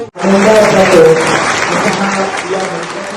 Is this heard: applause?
yes